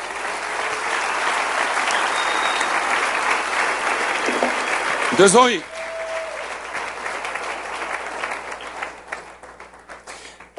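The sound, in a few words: applause in church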